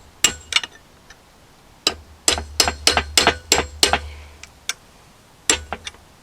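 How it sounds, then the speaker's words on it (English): A hammer strikes a pointed chisel, driving it behind a New Holland 56/256 rake gearbox cap: loud, sharp metallic blows close by, some single and some in quick runs of three or four, with short pauses between. "So we got a nice sharp pointed chisel and try to get in behind that and convince it to come out."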